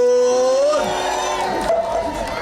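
A church congregation at a prayer and song-launch service cheers and ululates. A bright, wavering high trill runs over a mass of voices, loud and close, and it weakens toward the end.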